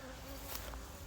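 Honeybee colonies in a small-scale mite-resistance breeding apiary give off a steady close buzzing drone through the whole short stretch, with no talking.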